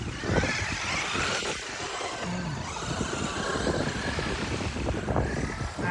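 Traxxas RC car driving through a blizzard in Brooklyn, a steady whirring motor buzz over continuous noisy crunching and rumble, loud and close for the whole stretch.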